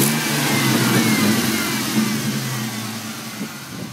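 Engine of a 1999 Mustang GT350R heard from the rear at the exhaust, a loud, close, sustained rumble with a steady low throb and slight swells, running alone without talk.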